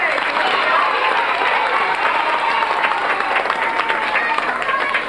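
A group of children at a reading event clap hard and cheer together, a dense, steady burst of applause with excited voices mixed in, close and lively throughout.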